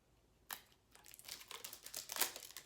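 An Ipsy beauty subscription bag is cut open, with a sharp initial snip followed by close, quiet plastic crinkling and tearing rustles over a few seconds.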